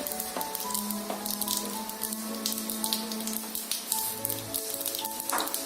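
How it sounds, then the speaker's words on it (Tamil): Mustard seeds crackle and splutter in hot oil for a mushroom pallipalayam, a dense, steady sizzle scattered with sharp pops throughout, close and fairly loud, no voices. "கடுகு இப்ப பொரிய ஆரம்பிக்குது."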